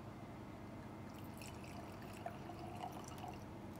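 Red wine being poured from a serving basket into a glass makes a faint, soft trickle and a few light drips under a quiet background hiss.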